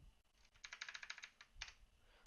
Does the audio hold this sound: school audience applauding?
no